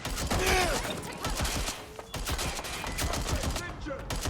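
Gunfire crackles in a Watch Dogs Legion street fight, a dense run of rapid close shots and bursts over mechanical clatter, continuing with brief gaps to the end.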